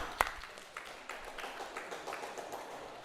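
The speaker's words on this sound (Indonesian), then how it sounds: "Kasih tepuk tangan untuk teman kalian." Students in a classroom give a classmate a round of applause, starting with one sharp clap and swelling into soft, scattered clapping that stays fairly quiet and distant.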